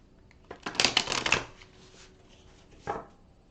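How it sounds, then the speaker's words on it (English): A deck of tarot cards is overhand shuffled close by, a dense riffling burst of about a second followed by a pause and one brief final shuffle. "And then I do a few overhand shuffles until I feel the deck is ready."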